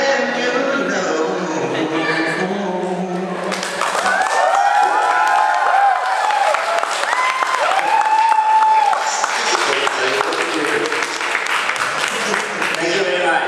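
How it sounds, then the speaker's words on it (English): A crowd at a fan convention breaks into loud, sustained clapping and cheering, with whoops and shouting rising over the applause, following music and a voice at the start. "there was a thundering applause right now"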